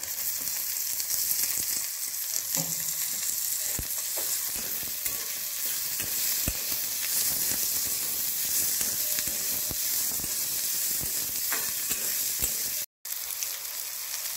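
Tomatoes go into a hot pan for matki usal, producing a loud continuous sizzle with scattered stirring clatter and scraping of the pan over the whole stretch, no talking.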